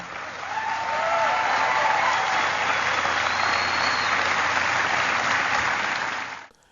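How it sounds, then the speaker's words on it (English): A big round of applause from a large audience after a speech line about climate change, a continuous dense roar of clapping that swells in, stays loud and even, then cuts off abruptly. "so he gets this big round of applause after he mentions the meeting of the Flat Earth Society"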